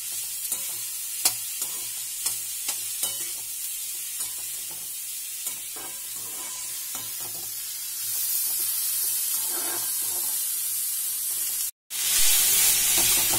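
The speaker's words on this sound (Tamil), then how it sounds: "வெங்காயம் நல்லா பொன்னிறமா வதங்கணும்" Onions sautéing until golden in a pan for paneer bhurji (podimas), a steady close sizzle and hiss with scattered sharp clicks of a spatula stirring, growing louder and fuller toward the end.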